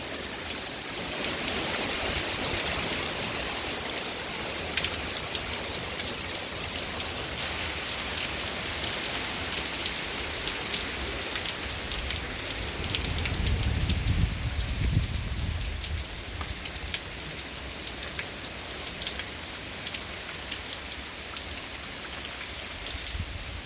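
Steady rain pours down onto the ground in an open rural field, a dense continuous hiss at moderate level with a brief low rumble partway through.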